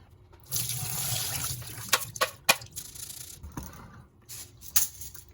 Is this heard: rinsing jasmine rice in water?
yes